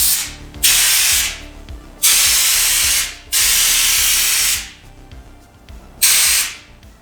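A spray gun test-sprays Lizard Skin sound and heat insulation coating onto a piece of cardboard in four loud, close hissing bursts of about a second each, separated by short pauses.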